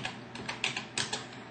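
Fast typing on a computer keyboard while entering a game name, with a steady run of close, crisp key clicks and a few louder strokes; no talking.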